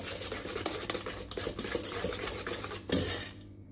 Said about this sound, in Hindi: ताकि ये शुगर के साथ अंडा जो है अच्छी तरह बीट कर सकते हैं आसानी से।